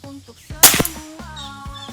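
A Sanca Gear Gen 5 air rifle fires a single sharp crack at an iron target, followed by a faint metallic clang, with background sounds around the shot.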